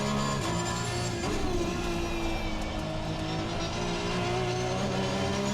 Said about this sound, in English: The engine does sound absolutely beautiful.